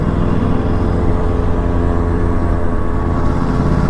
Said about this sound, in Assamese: মাত একদম ইনলাইন 4 বাইকৰ নিচিনা দিছে